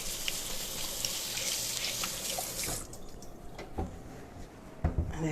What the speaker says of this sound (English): Let me just rinse my hands real quick.